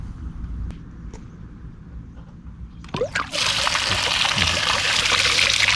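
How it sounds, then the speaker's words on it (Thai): Water gushes from a newly drilled 45-metre, 4-inch borehole well. After a few quiet seconds and a couple of clicks, a loud, steady rushing flow starts up close and keeps going. "เดี๋ยว จะมาเปิดให้ทุกท่านดูนะครับ ว่าน้ำไหลดีขนาดไหนครับ"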